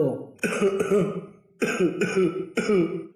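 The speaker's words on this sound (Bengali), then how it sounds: "তার মার তো কাশি বেরিয়ে চলেছিল" An old woman in a cartoon coughing and clearing her throat, three raspy, voiced bursts separated by short pauses, close and loud.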